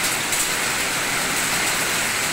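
Heavy rain pours down steadily during a hailstorm in Kuban, with a stream of water running off, a dense, continuous close wash of sound with no pauses.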